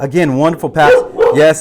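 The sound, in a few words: dog barking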